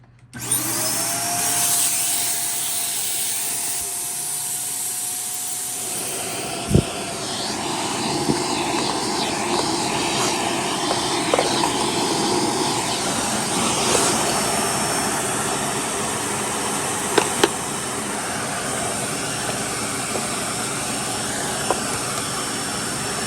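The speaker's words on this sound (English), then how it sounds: "So I'm going to get the vacuum real quick and get all this debris out of here" A vacuum cleaner runs with a steady, loud whine and roar while sucking debris out of a Rainbow SE vacuum under repair, with a few sharp clicks and knocks along the way.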